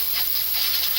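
Compressed air from a compressor hisses steadily for about a second in a workshop, cooling a hot bit, loud and close with no talk over it.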